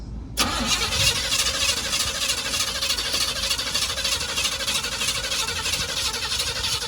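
A 1971 Buick Riviera GS 455 V8 with a weak battery cranks steadily for several seconds, a loud, continuous starter-and-engine churn with no catch, alone without talk.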